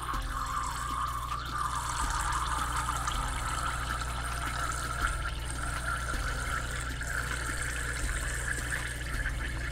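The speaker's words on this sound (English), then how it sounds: "Then you're going to add 90 gram of water to it to make" Water being poured onto sodium gluconate powder gives a steady, faint trickling and filling sound that runs unbroken throughout, with a low background hum and no talking.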